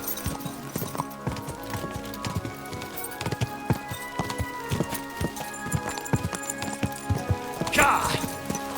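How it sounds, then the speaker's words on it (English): Steady, rhythmic clip-clop of horse hooves in Kingdom Come: Deliverance II, close and distinct, continuing throughout with a brief swell of noise near the end. "Easy, good horse."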